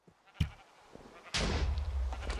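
Sheep bleating in Minecraft SheepWars, a loud, drawn-out synthetic bleat arriving after a couple of short thumps and clicks, close and alone.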